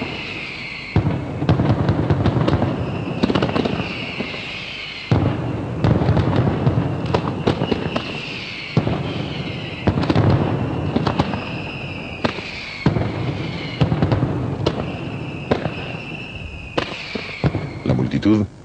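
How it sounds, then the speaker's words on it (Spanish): A mascletà of firecrackers and fireworks fired from the town hall square in Valencia crackles in dense rapid bursts and booms, loud and sustained in waves, with a voice narrating over it. "La mascletá es una sucesión artísticamente trenzada de tracas y fuegos artificiales"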